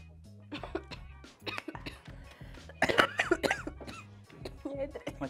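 Several sharp coughs and throat-clearing sounds after drinking break out among people talking and laughing nearby, with a low hum underneath.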